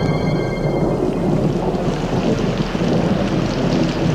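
Heavy rain pours onto hot surface rock with a dense continuous hiss and low rumbling thunder, loud and unbroken throughout, no voices.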